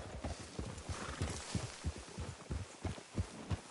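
Horses clip-clop at a steady walk, hooves thudding in an uneven rhythm at moderate distance with faint background hum.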